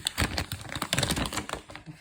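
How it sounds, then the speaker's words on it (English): Crinkly plastic wrapping rustles and crackles in quick, irregular bursts as an HP Envy 17 laptop is pulled out of it, close and fairly loud with no talking. "I just try to open this way so I can bring it out of its plastic"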